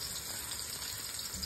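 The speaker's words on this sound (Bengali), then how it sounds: "রসুনটা আগে ভেজে নেই।" Garlic frying in a pan for khichuri, a steady broadband sizzle with a watery hiss running continuously and evenly at close range, no voices over it.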